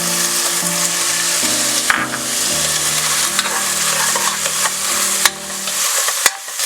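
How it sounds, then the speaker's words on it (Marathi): Chopped onions sautéing with a little rock salt in a pan for spicy Maharashtrian misal, a steady close sizzle under repeated scraping strokes of a spoon and occasional knocks against the pan, no talk. "कांदा शिजण्यासाठी मी आत्ता फक्त थोडंसं सैंधव मीठ घातलेलं आहे आणि परतत राहायचंय."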